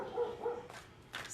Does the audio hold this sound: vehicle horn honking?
no